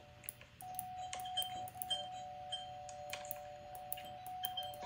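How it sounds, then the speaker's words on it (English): A faint electronic doorbell chime rings in a quiet home, holding a steady tone for several seconds amid light tapping and clicking sounds. "Don't ring the doorbell"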